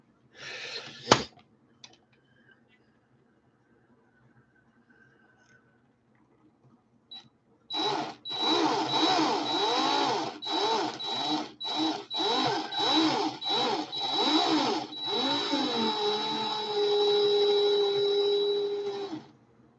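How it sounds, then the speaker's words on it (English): A variable-speed electric drill whirs steadily at low speed while twisting wire into hedgehog-style vape coils with inlay, running in long continuous bursts with brief pauses after a quiet opening and a sharp click. "Let me put my drill on slow."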